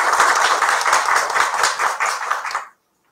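Close, loud clapping from a small audience at a psychology talk, brisk and fairly uniform, cutting off abruptly into silence near the end.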